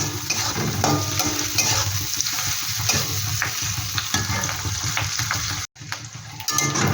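Steady, loud sizzling of onions frying in oil, with scraping stir sounds throughout and a brief drop-out near the end; no talking.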